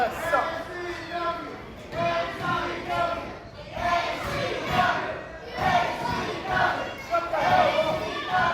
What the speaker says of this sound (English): And this crowd coming alive here, much to the chagrin of Anthony Catena